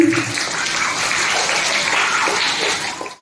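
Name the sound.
children applauding at a farewell programme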